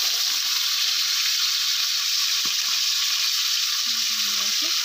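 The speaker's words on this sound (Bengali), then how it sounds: "তো সবগুলো মাছ একবারে ভাজা যাবে না, আমি তিনটে করে ভাজছি।" Fish (bhola) frying three at a time in hot mustard oil in a wok, a steady close hiss and crackle of sizzling that continues evenly throughout, with a brief low clink or scrape near the end.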